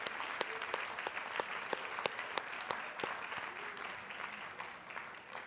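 An audience applauds the class of 1962 at a Columbia College Class Day ceremony, a steady wash of clapping from a large crowd with a few sharper claps standing out, continuing throughout.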